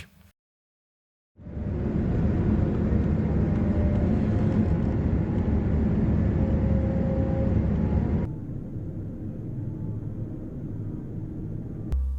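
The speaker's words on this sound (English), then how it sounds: "So now it's time for landing in Bangkok." Loud, steady broadband roar of an EVA Air airliner coming in to land at Bangkok, heard from inside the cabin; the engine noise drops to a lower, quieter rumble partway through, with no talking.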